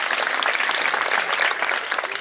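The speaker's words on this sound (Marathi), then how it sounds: "हरिभक्तरान माणिक महाराज रेंगे एकदा जोरदार टाळ्या त्यांच्यासाठी वाजवा" A crowd applauding kirtan performers at a devotional gathering, with dense, steady hand-clapping that carries evenly through the whole stretch.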